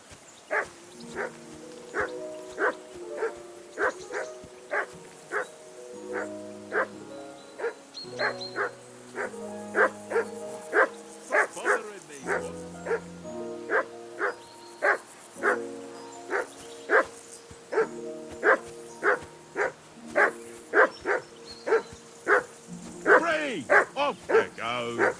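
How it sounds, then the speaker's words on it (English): Repeated dog barking in the video game Kingdom Come Deliverance 2, a steady run of sharp barks roughly every second for about 25 seconds, close and loud over a low tonal music bed. "Henry, that barking's driving me nuts. Can you get your dog to shut its beak?"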